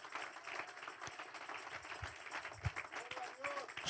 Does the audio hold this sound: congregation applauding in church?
yes